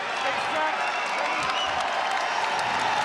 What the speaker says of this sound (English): The crowd bringing some energy to this.